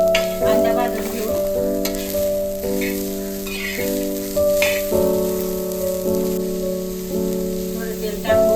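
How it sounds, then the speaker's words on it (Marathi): Onion frying in a pan, a steady close sizzle that runs throughout beneath a louder layer of melodic background music. "कांदा भाजून घेऊ"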